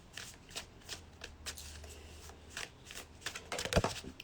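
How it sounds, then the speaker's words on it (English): Playing cards drawn and shuffled from a deck during a card game, a series of soft close riffling flicks and snaps that end in a brisker shuffle. "Let's go ahead and pull another card through here."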